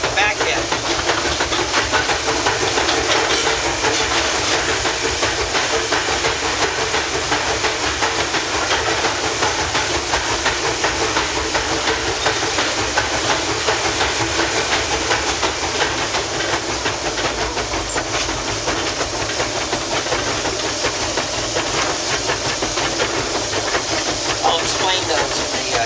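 Steam hisses steadily and loudly from the turret manifold atop a steam locomotive's boiler, a dense, unbroken roar that runs throughout. Someone talks over it.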